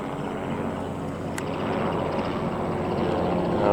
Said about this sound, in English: Apparently we got a helicopter going over.